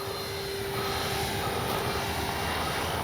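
A radio-controlled FlightLine P-51D warbird model plane from FGFRC drones steadily overhead, its electric motor holding a constant loud whine with a sustained tone throughout, with no talking.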